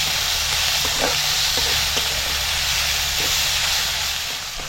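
Onion softening in hot oil in a pan, a loud steady sizzling hiss with a few faint clicks of stirring, close up and without talk.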